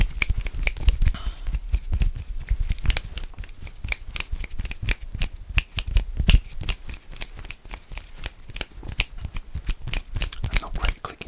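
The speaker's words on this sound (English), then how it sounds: "Okay, clicking fingers." Close, dense ASMR finger clicking: rapid, crisp snaps and taps that repeat steadily for over ten seconds with no pause.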